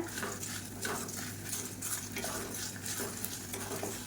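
Spices and fenugreek seeds roast in a pan over a medium flame, with a steady soft sizzle and repeated scraping and stirring of a spoon against the metal, heard close and alone.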